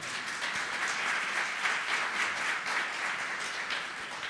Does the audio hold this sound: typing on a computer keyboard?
no